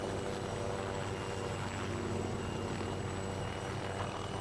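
A helicopter in the Arma military game, Altis Antistasi mod, flies close by, its steady rotor thrum and engine whine filling the air continuously at high volume, with no voices.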